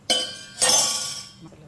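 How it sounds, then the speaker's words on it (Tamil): Eggs cracked and poured into simmering egg gravy, two sharp clinking hits followed by a brief trailing sizzle, close and fairly loud. "நம்ம இப்போ முட்டையை உடச்சி ஊற்றப்போம்"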